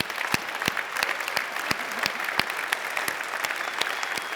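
An audience at a business conference event claps in a steady, dense round of applause that holds at an even level from start to finish, with no clear voices above it.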